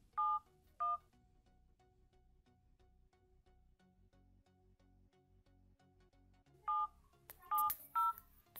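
Mobile phone keypad tones sound as a 12-digit Aadhaar card number is entered during an automated verification call: two beeps, a long pause, then a quicker cluster of beeps, each short and clear.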